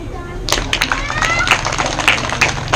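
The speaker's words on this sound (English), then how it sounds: "Clap." An audience of students, teachers and parents at a school meeting in Rupnarayanpur, West Bengal claps in brief scattered bursts, with talking voices mixed in over a steady room murmur.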